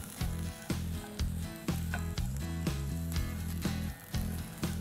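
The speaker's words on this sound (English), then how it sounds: "I'm going to put in some turmeric powder, some Kashmiri red chili powder, and give it a good stir" Turmeric and Kashmiri red chili powder sizzle in a hot pan while being stirred for vegetable broken-wheat dalia upma, a steady close frying crackle broken by regular scraping strokes and utensil knocks.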